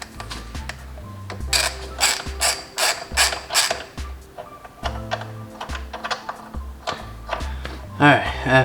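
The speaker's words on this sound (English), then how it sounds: "after a lot of unscrewing, the short stubby bolt comes out." Ratcheting wrench work on a frame slider bolt of a Kawasaki Z650 motorcycle, with repeated close clicking bursts in uneven runs and brief pauses between turns.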